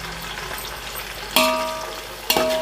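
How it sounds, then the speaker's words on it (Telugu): Tomatoes and onions fry in a pan for Nellore-style prawn biryani, a steady close sizzle broken by two sharp clatters of a stirring utensil. "టమాటా ఎర్రగడ్డ అయితే బాగా వేగిపోయాయి"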